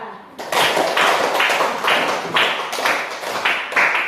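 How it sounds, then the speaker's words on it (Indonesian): A class claps for group A, a steady broadband patter of many hands, fairly loud and close, with a few voices mixed in. "Oke, tepuk tangan kepada kelompok A."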